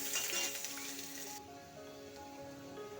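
Paneer cubes with potato and tomato sizzle and crackle steadily in an oiled pan, a close, bright frying hiss with a faint clink, loudest at first and settling quieter after a moment.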